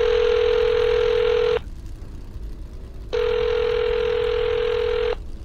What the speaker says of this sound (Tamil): மாதவ் தன்னுடைய செல்போன் எண்களை அழுத்த எதிர்முனையில் ரிங் போய்க் கொண்டிருந்தது